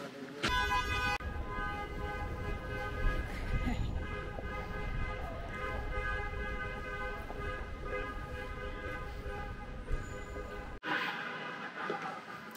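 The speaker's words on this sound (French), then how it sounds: "Ça klaxonne, c'est un mariage." Car horns honk for a wedding out on a street, a long run of steady toots that carries for about ten seconds over traffic noise and then stops short. A person talks partway through.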